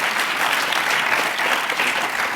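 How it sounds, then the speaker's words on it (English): An audience gives steady, dense applause for the panelists at a business panel on working with CFOs toward net zero, loud and continuous from start to finish with no talking over it. "I think you can all give the panelists a round of applause"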